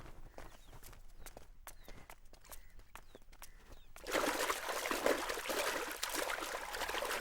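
Boys splash water on their faces at a stone cattle trough, first as scattered scuffs and light splashes, then as a louder, denser rush of water for the last few seconds, with no talk.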